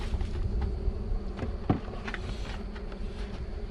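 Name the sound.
honeybees buzzing around an open hive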